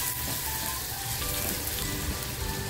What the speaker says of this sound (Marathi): हलकासा कांदा फ्राय करून घ्यायचा आहे।